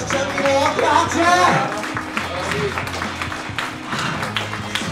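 A crowd at a Beyblade tournament in Tokyo, with adults and children together, applauds the runner-up; the clapping swells at first and then thins out while an announcer keeps talking loudly over it.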